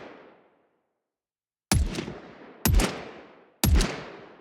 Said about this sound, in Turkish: P190 tabanca seviye 10 ses efekti.